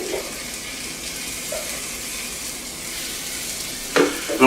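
Water hisses and steams on a hot clothes iron used as a makeshift cooking surface, prison style: a steady, moderately loud sizzle with a couple of sharp clatters near the end.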